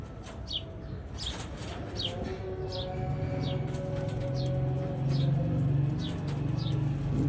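Pigeons coo in a low, steady rumble close by, with repeated chirps and occasional wing flutters over a soft outdoor background.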